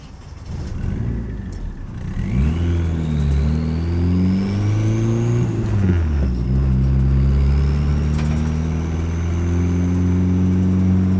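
A Nissan 240SX's KA24DET engine runs steadily close by while warming up, its pitch rising as it revs then settling back, with a faint high whine above the rumble.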